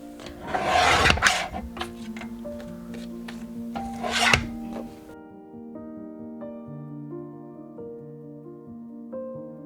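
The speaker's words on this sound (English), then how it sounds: "So all I need to do is trim them down to be 5 inches in width" Album pages for a 6x8 album are trimmed to five inches wide with two rough cutting strokes close by, followed by quiet background music.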